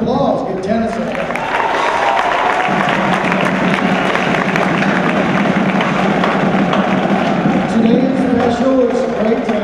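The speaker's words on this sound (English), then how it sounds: "Give tennis a round of applause." Applause and cheering from a crowd at a high school pep rally for the district champion tennis team fill a gym continuously and loudly, with speech mixed in over the clapping.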